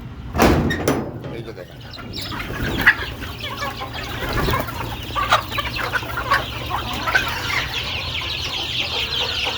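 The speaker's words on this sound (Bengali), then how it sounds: "এখন মুরগি ছাড়তেছি" Young native chickens cluck and chatter as they are let out toward their feed, a busy flock heard close up, with a sharp knock early on and some wing flapping.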